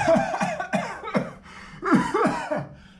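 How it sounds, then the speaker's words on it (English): A person coughs after choking on something that went down the wrong way: a series of harsh, repeated coughs, roughly six or seven bursts in quick succession with a brief pause midway, close and loud. "The next thing you know, you're coughing all over the place."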